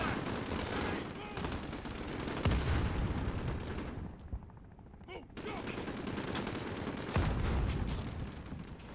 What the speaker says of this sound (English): Where are they shooting from exactly?